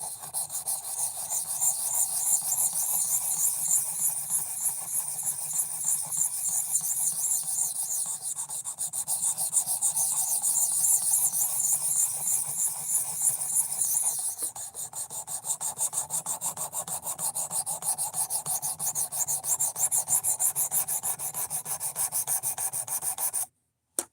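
A knife blade is sharpened in long repeated strokes, giving a steady close scraping and rasping sound that runs continuously with slight rhythmic pulses and no talking.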